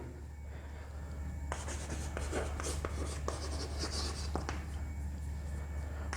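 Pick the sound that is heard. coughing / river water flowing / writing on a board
writing on a board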